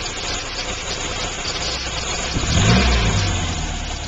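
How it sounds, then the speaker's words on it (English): A 1958 Bugeye sports car engine catches from a steady background rumble, surges loudly as it fires, then settles into a steady, close-up running idle, with no talking. "Let me start it up for you so you can hear it run."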